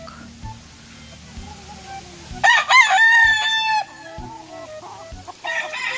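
Young roosters about eight months old crow loudly nearby in a harsh, wavering burst lasting over a second, with softer clucks and scattered farmyard sounds around it and another crow starting near the end.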